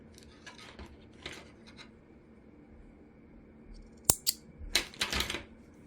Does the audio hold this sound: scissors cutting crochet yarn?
yes